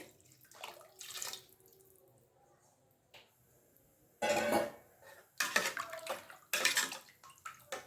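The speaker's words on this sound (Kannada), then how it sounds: "ನಾನೀಗ ಎರಡು ಗ್ಲಾಸ್ ಅಕ್ಕಿಗೆ ನಾಲ್ಕು ಗ್ಲಾಸ್ ನೀರು ಹಾಕ್ತಿದ್ದೀನಿ" Water is poured into a cooking pot in bursts, one after another, for tomato rice, with quiet kitchen clatter before them and nearby splashing that rises loud toward the end.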